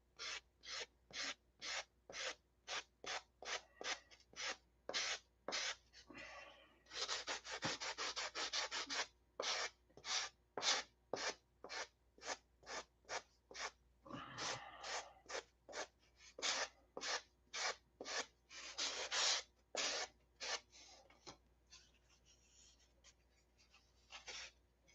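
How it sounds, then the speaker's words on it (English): Rhythmic back-and-forth sanding of foam flush against a ribbed model-aircraft wing structure, quick regular strokes with brief pauses between bursts, close and fairly quiet with no talking. "you can tell when to stop sanding when it's flush with the foam"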